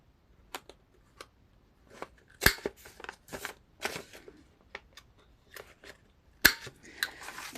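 Scissors trim a paper junk journal page, giving a series of crisp, close snips and rustles in uneven bursts, quiet between cuts, with no talk.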